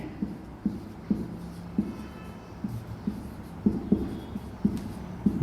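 Chalk or a pen taps and scratches on a board as a Hindi kundali poem is written out, giving quiet, irregular strokes over a low background hum with no talking.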